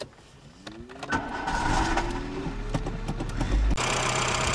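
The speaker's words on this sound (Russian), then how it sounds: "И завожу машину." A car engine turns over and settles into a steady idle hum, with a brief clunk near the end.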